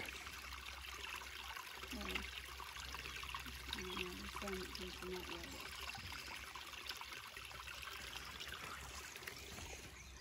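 Natural runoff from a homestead pond trickles and dribbles steadily outdoors, a soft, continuous watery wash under a low background rumble, faint and unbroken throughout.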